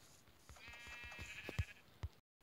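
A sheep in a video game gives a single quavering bleat at low volume, set among soft clicks and thumps of gameplay.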